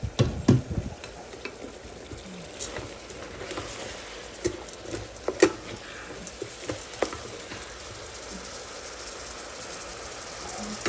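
Breakfast sausage frying in an Instant Pot on sauté mode, giving a steady crackling sizzle with scattered pops and a few stirring scrapes, close and continuous without talk.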